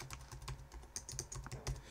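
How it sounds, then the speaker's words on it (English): Quiet, rapid clicking of keys on a computer keyboard, an uneven stream of soft taps with no voices. "Now I'm just typing tennis link here"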